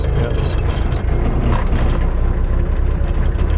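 A rebuilt skid steer's diesel engine, fresh with a brand new injection pump, runs in a loud, steady idle, rumbling close and uninterrupted.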